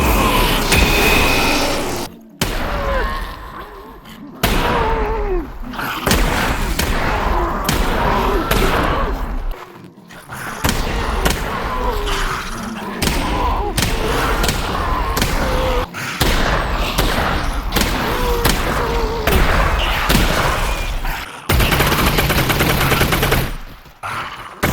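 Gunfire at a shooting range in Half-Life: Alyx, loud and dense, with bursts and rapid shots filling most of the stretch, broken by a few short pauses.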